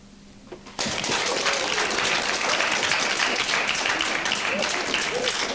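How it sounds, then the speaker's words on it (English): Studio audience bursts into sustained applause after a quiet start, loud dense clapping continuing to the end with a few faint voices mixed in. "it should have spontaneous applause, really"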